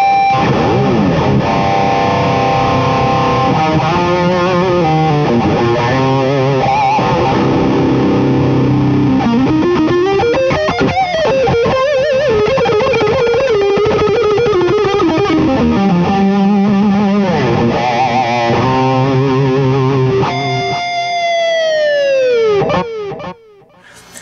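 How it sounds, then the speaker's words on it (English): An overdriven electric guitar through an Axe-Fx II on its 5153 Red amp model with a 2x12 cabinet plays a sustained, singing lead line with delay trails, loud and continuous, ending in ringing echoes. "my lead tone. It's using the same amp, 5153 Red model, and the same overdrive"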